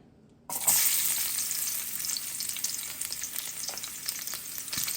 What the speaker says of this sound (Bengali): এদিকে একটা কড়াইয়ের মধ্যে তেল দিয়েছি অল্প রসুন দিয়ে